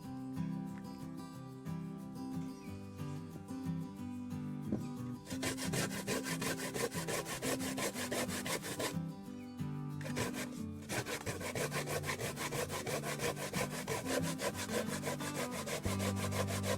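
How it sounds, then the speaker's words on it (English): Sweet potato grated by hand for Jamaican dukunu, a continuous close scraping rasp with fast repetitive strokes, loud and steady throughout with a couple of short breaks. "so we are finished grating our sweet potato"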